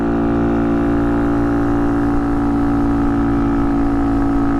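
A Honda Monkey motorcycle engine with a clutch problem runs loud and close, a steady high idle that spins too fast and holds an unbroken buzzing drone throughout.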